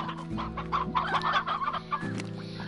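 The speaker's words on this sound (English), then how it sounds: "Give me some hens." Chickens in a video game cluck in a quick, busy burst of several overlapping hen calls, close and clear over a low steady hum.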